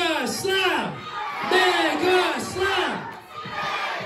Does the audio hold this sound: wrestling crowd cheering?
yes